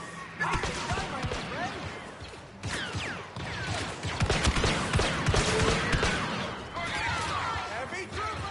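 Star Wars video game combat with dense, rapid blaster fire, zaps and crashes layered over each other throughout, while someone talks over the action.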